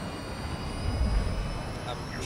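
A guided missile in Call of Duty Modern Warfare 2 streaks through the air with a low rumbling roar that swells toward the middle and then eases off, heard under clipped radio-style talk.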